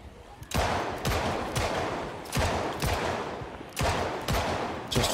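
Gunshots in Project Zomboid ring out as repeated sharp cracks, roughly three distinct bursts spaced about a second or more apart, each with a short echoing tail, loud and close with no talking.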